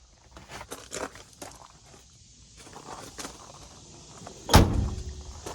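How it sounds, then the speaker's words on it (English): Footsteps and shuffling around a 1984 Jeep Wagoneer that has sat unused lead up to one loud, solid slam of its door, followed by a brief rattling ring-out. "Door's shut solid."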